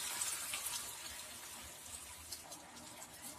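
Half a glass of water is poured into a pan of roasted chicken pieces and spices for an Afghani chicken curry, a faint, steady splashing gush with no talk over it.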